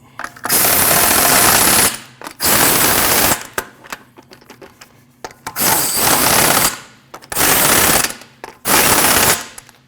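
An impact wrench snugs up the wheel lug bolts on a 2014-2023 Jeep Cherokee in six loud, rattling bursts of about one second each, separated by short pauses.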